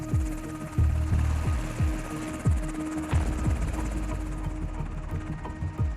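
A Marine Corps presidential helicopter drones steadily with a low, rhythmic rotor thump repeating through the whole stretch, fairly loud and close.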